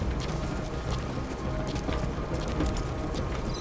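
D-Horse, the horse in the Metal Gear Solid V: The Phantom Pain video game, clip-clops its hooves in a steady, moderately loud trotting rhythm over a continuous ambient background, with no talking.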